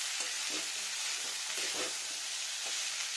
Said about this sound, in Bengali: এবার নাড়া দিই